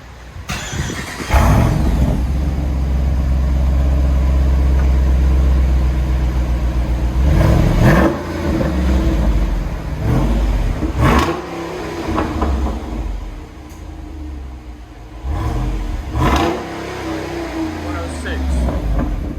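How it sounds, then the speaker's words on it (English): A 2022 Jeep Rubicon 392 with a 6.4L V8, resonator still fitted, rumbles loud and deep at close range. Several throttle blips rise and fall, and voices talk over the engine. "So we let you hear it before. This is 2022 Jeep Rubicon 392."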